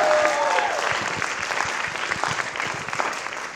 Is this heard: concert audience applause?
yes